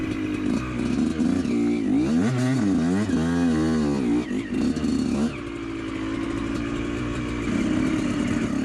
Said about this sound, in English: you have to pull the clutch lever just enough so that the engine can rev up while still pushing the bike forward